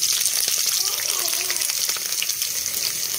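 Chopped onion and green chili hit hot oil in a pan for desi-style matar paneer, giving a steady, close, broadband sizzle that hisses evenly throughout.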